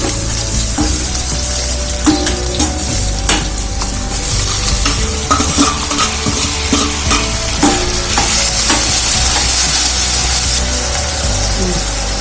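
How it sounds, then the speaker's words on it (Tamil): Onions and tomatoes fry and are stirred in a pan while making a Tamil prawn thokku. A loud, steady sizzle continues throughout, with repeated scraping stirs and clanks against the pan. "இப்போ ஆனியன் கலர் மாறிடுச்சு. ஸோ அந்த டைம்லேயே நம்ம வந்து தக்காளி ஆட் பண்ணிடலாம்."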